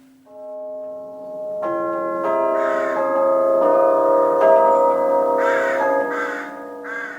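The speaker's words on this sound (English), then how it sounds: "It's been a privilege to be able to see and hear these wonderful Victorian tubular bells" Victorian tubular bells ring out a slow eight-bell melody, each struck note sustaining and overlapping the next, clear and resonant with no voices.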